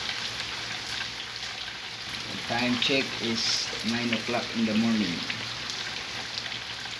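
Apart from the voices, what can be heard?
heavy rain falling in Jeddah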